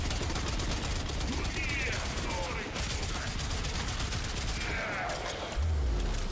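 Guns firing in Warframe produce rapid, continuous bursts of automatic gunfire, dense and loud throughout, with a deep boom near the end.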